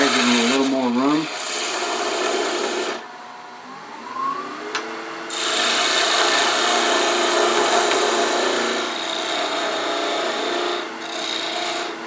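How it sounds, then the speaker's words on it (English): Sandpaper held against a wooden wand handle turning on a lathe makes a loud, continuous rubbing hiss over the motor's steady hum, with a brief quieter pause partway through. "Let's touch it up a little sandpaper and then part it off."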